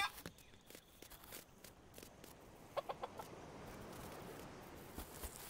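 Chickens clucking on a farm in the video game Dinkum, scattered short clucks with soft footsteps and a busy cluster of calls midway, fairly quiet throughout.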